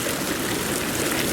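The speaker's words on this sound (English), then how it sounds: "you can really adjust the waterfall wherever you want it" Water pours steadily from the adjustable waterfall of a South Sea Spas 748L Deluxe hot tub, a loud, close, continuous splashing rush with no pauses.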